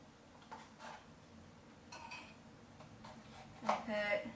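Metal spoon clinking against a hookah base while baking soda is added during cleaning: a few light, sparse clinks, with the sharpest near the end and faint talk in the background.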